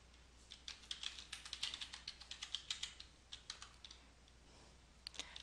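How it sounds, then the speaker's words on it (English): Quiet typing on a computer keyboard, a quick irregular run of soft key clicks lasting several seconds with a couple of final taps, heard alone and close. "Type keywords here in the search bar"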